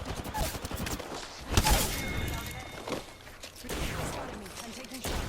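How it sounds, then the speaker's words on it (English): Shotgun gunfire erupts during a close-range fight in the video game Apex Legends: sharp, loud blasts, the heaviest near the middle, mixed with other busy in-game action noise. "Oh, shotgun fight."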